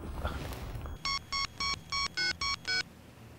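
A mobile phone rings for an incoming call: seven short, evenly spaced electronic tone bursts in a quick pattern, clear and close, following a moment of low background noise.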